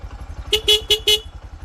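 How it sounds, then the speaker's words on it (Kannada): A vehicle horn honks four times in quick succession on a rough off-road village track, short bright blasts over a steady low engine rumble. "ಹಾರ್ನ್ ಹಾಕ್ದಂಗೆ ಆಯಿತು"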